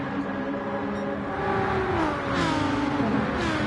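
Aston Martin V12 Gr.3 race car engine in Gran Turismo at Monza, a sustained high-revving wail that climbs through gear changes, loud and close, with no one talking.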